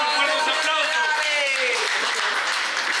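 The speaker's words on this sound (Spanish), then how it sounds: "Fuertes aplausos, fuertes" Rap battle crowd in a dense, steady wash of applause through the whole stretch, with a host's amplified voice talking loudly over the clapping.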